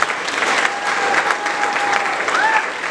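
Steady, dense applause from a graduation audience fills the whole stretch at an even level, with a brief whistle-like tone rising near the end.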